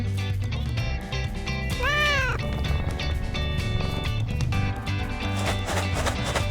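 A cat meows once in a drawn-out, rising-and-falling cry, heard amid a busy, loud backdrop of music and other sounds in a children's program.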